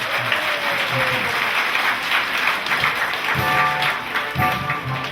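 A crowd claps steadily and warmly, a broad wash of many hands applauding together at close range, with a few sharper individual claps standing out.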